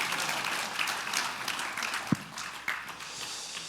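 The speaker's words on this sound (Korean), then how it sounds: "허광 총재님 큰 박수 부탁드리겠습니다" Conference audience gives a round of applause for a keynote speaker, a moderately loud, steady wash of clapping with a few sharp individual claps standing out near the end.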